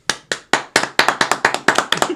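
One person claps hands in a steady, quickening run of about a dozen loud, close claps, crisp and evenly spaced, with no talking over them.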